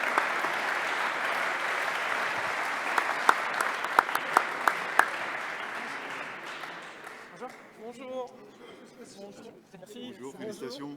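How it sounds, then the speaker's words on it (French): Audience applause at an awards ceremony for a cycling-friendly cities ranking, a dense steady wash of clapping with a few sharp individual claps that thins out after about seven seconds as a voice begins speaking. "je vous demande d'applaudir Cécile Gamblin"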